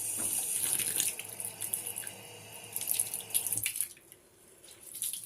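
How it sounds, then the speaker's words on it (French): Cool tap water runs onto a reusable cotton pad in a bathroom sink, a steady close splashing stream with small drips that briefly stops near the end before resuming. "je vais donc l'humidifier un petit peu avec de l'eau fraîche"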